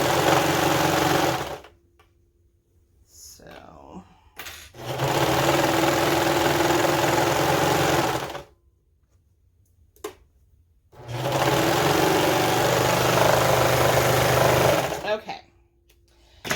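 A regular sewing machine stitches minky fabric in two long, steady, loud whirring runs separated by short pauses, with a brief burst at the end.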